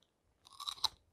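Crunchy chewing of a whole ambarella fruit dipped in chili sauce, a short burst of close, moist bites lasting under a second, with no talking.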